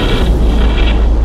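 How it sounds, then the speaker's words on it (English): Explosions and weapon impacts against a station's bulkheads in the space strategy game Battlefleet Gothic Armada, a loud, continuous low rumbling boom with a hiss on top, sustained without a break. "We're seeing several weapon impacts and signs of explosions on the bulkheads."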